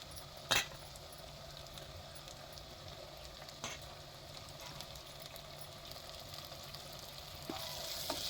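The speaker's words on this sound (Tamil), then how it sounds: "வெங்காயம் தக்காளிலாம் வதங்கும் தக்காளியும் போட்டுக்கிறேன்" Onions and tomatoes sauté in a pan for a chicken curry with green cashews, giving a steady, fairly quiet sizzle broken by a few sharp clinks of a utensil against the pan.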